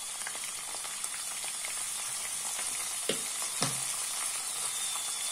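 Longaniza sausages frying in a pan, a steady bright sizzle throughout with a couple of soft clinks from stirring, close and alone without talk.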